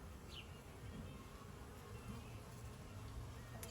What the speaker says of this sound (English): Bees are important, and it's nice to see a hive alive.